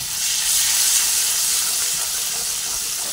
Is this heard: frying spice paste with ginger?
yes